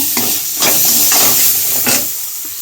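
Spices, a small chopped tomato and turmeric sauté in a pan with ground spice paste water, a loud close hiss and sizzle broken by about four scraping stirs, no talk.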